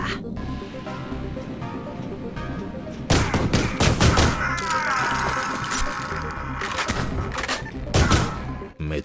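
Ion Fury, a retro first-person shooter, fires its weapon's secondary mode in a dense rapid barrage, loud crackling bursts overlapping for several seconds with heavy impacts, set against game background sound.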